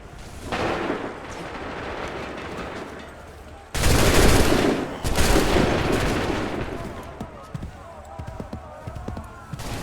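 Musket volleys ring out on an Assassin's Creed III battlefield, loud massed bursts striking in two heavy waves with scattered single shots trailing after, while shouted commands and crowd noise fill the gaps between.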